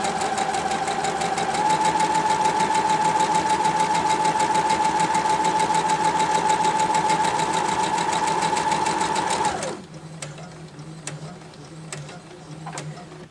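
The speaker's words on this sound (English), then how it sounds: "Sew a couple of scraps together." A sewing machine runs at a steady, even speed for about nine seconds while stitching quilt scraps together for a quilt-as-you-go project, then stops abruptly and leaves a quiet room tone.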